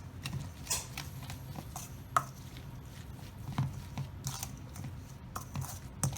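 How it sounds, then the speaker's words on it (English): A spoon stirs garlic, green chili paste and chopped mint in a bowl, giving light irregular taps and scrapes with small clicks, close and quiet with no talking. "Now just using a spoon, you want to give that a quick mix."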